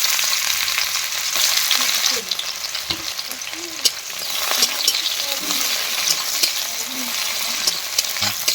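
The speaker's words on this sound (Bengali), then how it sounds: "পেঁয়াজটাকে ভাজা করছি, তার সাথে দিয়ে দেবো একটু রসুন।" Chopped onions sizzle steadily in hot oil in a pan, with a bay leaf added, as a Bengali kochur loti dish begins; a continuous close frying hiss with small stirring clatters, and no talking.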